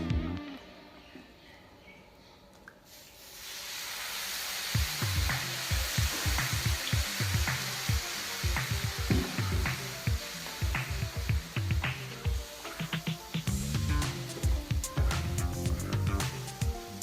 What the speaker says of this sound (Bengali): জলটা বারবার ছিটিয়ে ছিটিয়ে দিতে হবে